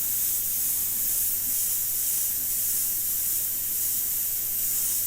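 Airbrush spraying paint, a continuous even airy hiss with a faint low hum beneath, steady and close with no voices.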